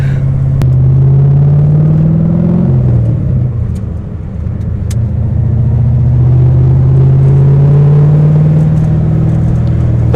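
A Corvette C4 V8 idles with a deep, steady rumble, dipping briefly as the revs change before settling back into a loud, even drone close by.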